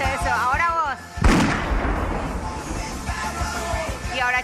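A voice imitates a Power Rangers-style explosion with a sudden loud burst early on. Yelling and lively talk from several people come before and after it.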